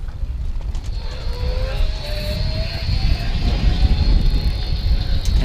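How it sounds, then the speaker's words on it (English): Electric motor of a Torker Tristar hybrid electric trike under gentle pedal assist, a faint rising whine above heavy rumbling road and wind noise. "You hear a little bit of motor coming on, just very gently, but only when I'm pedaling."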